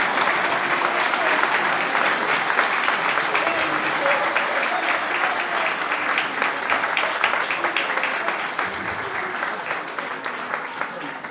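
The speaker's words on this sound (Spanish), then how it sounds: "Quiero que le den las gracias con un fuerte aplauso." Loud, sustained audience applause at a National Guarania Day celebration, many hands clapping in a thick, continuous wash that slowly eases toward the end, with voices faintly mixed in.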